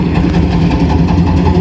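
A trawler boat engine runs at a steady, loud, close diesel throb with constant vibration and no break.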